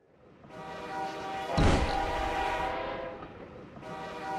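A train approaches in the video game Suicide Guy, its rumble building steadily as a sustained horn blast sounds over it, then the noise carries on past.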